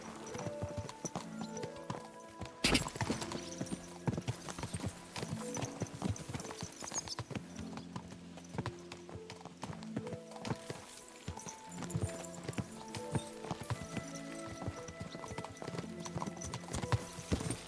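Horses in Kingdom Come: Deliverance 2 ride out in a group, their hooves clip-clopping steadily and close by over a continuous rhythmic stream, with an occasional whinny.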